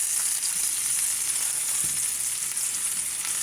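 Bacon grease fries in a pan with a loud, steady hiss of sizzling that holds evenly throughout, with a faint scrape partway.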